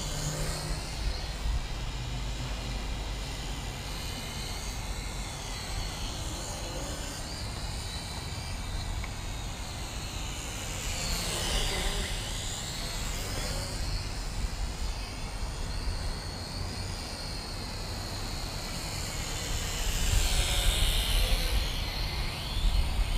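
A JJRC H51 Rocket 360 drone flies outdoors within line of sight, its propellers giving a steady distant whirring hum under wind hiss that swells briefly near the middle and again toward the end.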